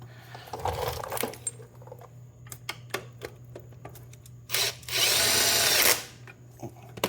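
A power drill drives a bolt into a starter. Small metallic clicks and tool handling come first, then a short whirr and a longer, louder burst of the drill running close by.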